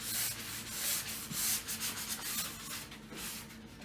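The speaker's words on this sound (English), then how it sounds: "I've just gone through and sanded down the prime coat" Sandpaper rubs back and forth over primed wood trim, a steady scratchy rasp with rhythmic strokes and brief swells, close and alone with no talk.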